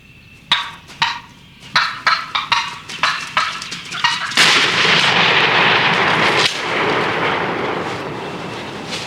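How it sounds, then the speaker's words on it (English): A shotgun blast rings out on a spring turkey hunt in Alabama, loud and booming with a long rolling echo, preceded by a series of sharp turkey gobbles and calls close by. "Shoot the back turkey."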